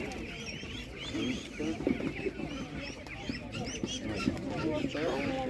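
Chickens and other fowl clucking and calling at a busy poultry market, overlapping chatter of many birds nearby with people talking in the background.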